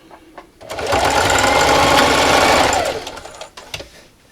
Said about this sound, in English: Make sure everything's lined up nice, and just keep sewing. And backstitch at the end.